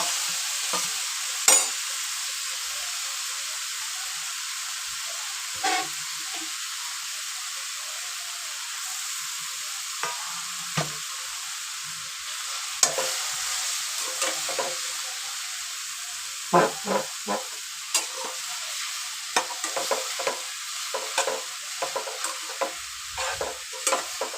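Raw green mango pieces with turmeric being sautéed in a pan for gulamba, a steady bright sizzle with frequent spatula scrapes and taps that grow busier toward the end, close and unvoiced.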